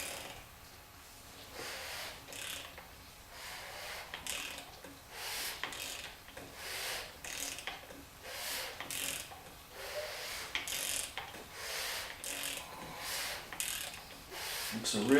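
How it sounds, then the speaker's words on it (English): A ratchet clicks in repeated, evenly spaced bursts as a V8 engine in a Miata build is turned over by hand, each stroke a quiet rasping series of pawl clicks up close. "now let's turn the motor over just to double check"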